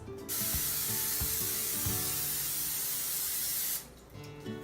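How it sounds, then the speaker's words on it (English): A cooking spray can sprays in one long, loud hiss lasting several seconds onto a pan, with faint clicks of the nozzle before it stops. "Then we're going to spray the top."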